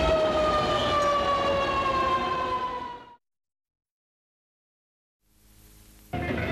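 A siren wails loud and steady for about three seconds, drops out into silence, then returns at the end, sounding at a 1960s gathering in the RAI hall in Amsterdam while a smoke bomb is set off.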